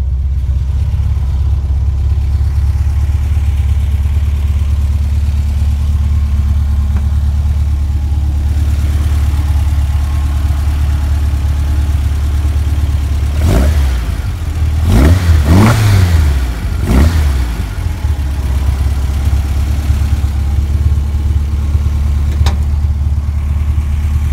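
A 1965 Volkswagen Beetle, once rolled over and with unknown mileage, idles with a steady low rumble that rises into several quick revs midway before settling back to idle, loud and close, with no talk.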